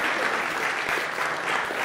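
Steady, dense applause from a conference audience welcoming a government minister on stage at a business conclave, sustained and even for the whole stretch with no break.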